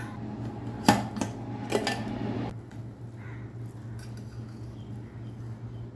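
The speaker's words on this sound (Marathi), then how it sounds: "कुकर थंड झाला आहे. झाकण काढून बघूया." A pressure cooker lid is opened after cooking dry prawn rice, with a few sharp metallic clanks and scrapes of the lid, followed by quieter background hum.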